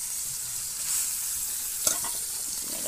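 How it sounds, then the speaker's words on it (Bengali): Fish pieces frying in a pan while being turned side to side, a steady close sizzle with a brief louder clatter partway through, no talking. "এপিট ওপিট করে সুন্দর করে মাছগুলো ভেজে নেব।"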